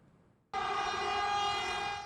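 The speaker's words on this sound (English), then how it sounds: "A passing train's horn echoes down a stretch of track on Taiwan's east coast." Horn of a passing train sounds on a railway stretch along Taiwan's east coast, a sudden loud sustained blast that holds steady for well over a second after a quiet lead-in.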